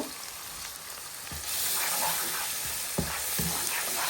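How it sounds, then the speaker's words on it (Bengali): Ground cumin, coriander and green chillies fry in hot oil for a boal fish curry, the sizzling swelling louder partway through and punctuated by scraping stir strokes. "তো এগুলো দিয়ে আমি ভালোভাবে আবার এটাকে কষিয়ে নেব"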